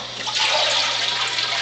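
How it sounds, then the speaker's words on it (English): A household toilet flushing in a steady, loud rush of water that fills the whole moment, with no talk over it. "Why'd you flush the toilet?"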